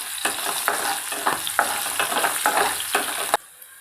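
Peas tipped into a hot frying pan with chillies and stirred, giving repeated scraping strokes over a steady sizzle in an even rhythm, ending abruptly.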